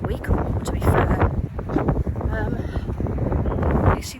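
Strong wind gusts rumbling against the microphone while a person talks nearby, the blustery roar rising and falling under the voice.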